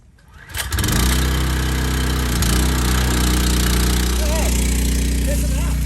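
A small water pump engine, set up to draw water from an above-ground pool into fire hoses, catches after a brief pull and settles into a loud, steady, close drone that runs to the end.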